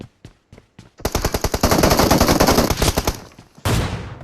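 Gunfire in a video game sniper match: a few sparse early shots, then a long dense run of rapid, loud automatic bursts lasting about two seconds, a short pause, and one more sharp blast, with no talking.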